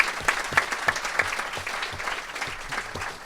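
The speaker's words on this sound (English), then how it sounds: "Give Claire a round of applause." Audience applause at a live political podcast taping, a steady wash of many hands clapping at moderate loudness for a few seconds with no talking over it.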